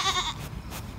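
Goats bleating at a farm stable, one loud nearby bleat at the start followed by fainter calls and rustling in the background.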